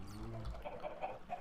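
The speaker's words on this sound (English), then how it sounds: "you got 4 chickens in there" Faint, soft clucking from four chickens in a video game, small, quiet bursts spread over a moment with no voices.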